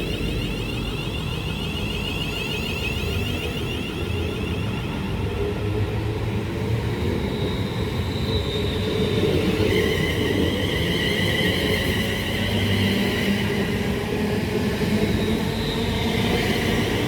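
Delayed London Northwestern Railway train from Milton Keynes Central to London Euston on the West Coast Main Line at Tring, a steady loud rumble of wheels and traction with a rising whine passing close by.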